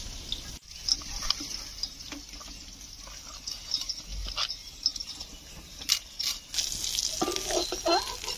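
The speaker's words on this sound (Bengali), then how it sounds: "বন্ধুরা মাছ ভাজা হয়ে গিয়েছে" Fish frying in oil gives an uneven crackling sizzle with scattered pops and sharper spatters, growing busier and louder toward the end.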